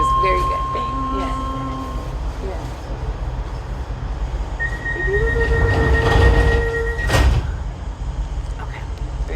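A driverless DLR train runs along the rails with a steady rumble, high wheel squeals, and tonal whines from the motors, heard from inside the carriage while people talk.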